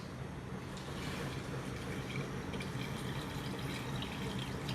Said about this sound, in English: We need to add water only to cover the meat.